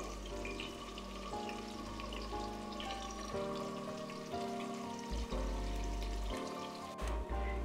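Onions frying in a pot for mutton korma make a steady, soft crackling sizzle that runs throughout, with faint tonal background sound beneath it.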